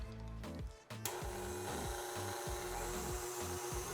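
A stand mixer with a whisk attachment whips heavy cream with vanilla bean paste, giving a steady, close motor whine with a rhythmic pulsing beat after a brief stutter at the start.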